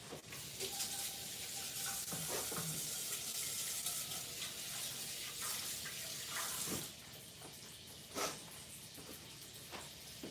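Tap water runs steadily into a kitchen sink while hands are washed, a constant moderate hiss broken by a few splashes and clinks.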